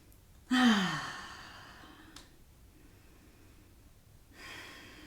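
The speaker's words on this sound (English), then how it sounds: "Hopefully all my breathing noises are not terribly annoying and enough of a reminder to keep breathing." Heavy breathing during a floor workout: a strong, close, forceful exhale at the start, a short sharp breath midway and another audible breath near the end, with quiet pauses between.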